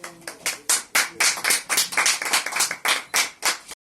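An audience at the NSWO Saksham Nari award ceremony in Chandigarh claps loudly and close by, in uneven bursts that sharpen into strong individual claps before cutting off abruptly.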